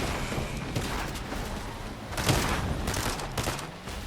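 Gunfire in Fortnite during a chaotic match, dense overlapping bursts of shots and blasts forming a continuous noisy barrage.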